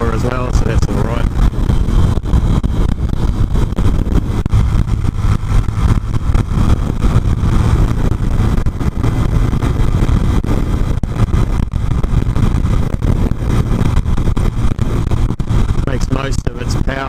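A small motorcycle engine drones steadily while riding, a continuous mid-pitched hum and buzz beneath nearly constant talking from the rider.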